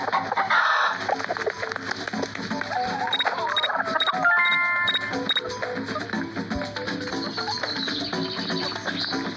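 Chicken clucking in the Scary Teacher video game, repeated close clucks and fowl calls over a continuous game soundtrack with short melodic tones, steady and fairly loud throughout.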